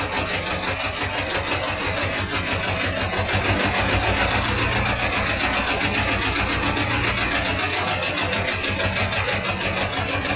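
A T-16 tractor's engine is throttled up and runs hard with a loud, steady knocking diesel clatter. It continues without a break for about ten seconds, and no one speaks.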